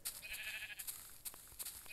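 Sheep bleat in the Minecraft video game, a brief wavering call rising over scattered clicks and small game sounds, with no talking.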